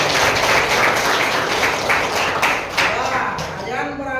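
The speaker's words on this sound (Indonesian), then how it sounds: "Oke, tepuk tangan." A vocational school cooking class breaks into applause, with dense, continuous clapping from a roomful of students that tapers slightly toward the end.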